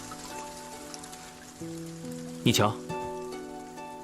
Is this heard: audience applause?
no